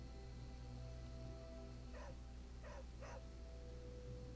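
A dog in the video game Marvel: Midnight Suns gives three short, faint barks around the middle, set against a steady, constant game background hum.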